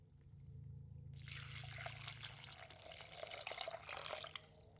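Water poured in as the first ingredient of a witch's brew in a medieval roleplay setting, a steady close splashing stream that starts after a low hum and runs continuously to the end.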